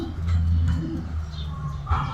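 Low, soft cooing of a pair of racing pigeons repeats close by, a throaty warble with brief pauses, and a faint chirp cuts in near the end.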